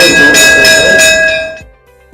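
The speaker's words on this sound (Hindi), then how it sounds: "बज गई घंटी।" A school bell rings loud and close in a sustained metallic clang with pulsing strokes, then cuts off and fades to quiet.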